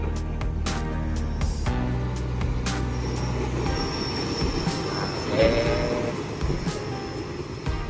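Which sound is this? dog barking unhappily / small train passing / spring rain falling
small train passing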